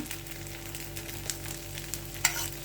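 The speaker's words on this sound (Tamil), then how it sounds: "இப்போது சுற்றி எண்ணெய் சேர்த்துக்கலாம்." Oil sizzling around an instant rava dosa on a hot pan, a steady faint crackle with a few sharper pops, no voices.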